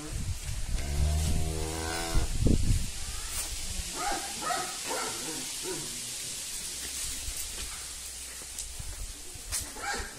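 A cow gives one loud, close, drawn-out moo near the start, then a shorter low grunt, over a continuing outdoor background of faint rustling and distant noise.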